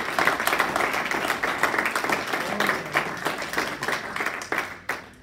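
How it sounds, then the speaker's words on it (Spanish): Church congregation applauding during a Spanish-language sermon, dense steady clapping throughout that fades toward the end. "Le puedes dar un aplauso al Señor."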